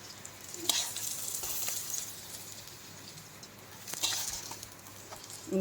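Paneer fries in a pan, hissing steadily while a utensil stirs and scrapes it in two distinct bouts, with quieter sizzling in between.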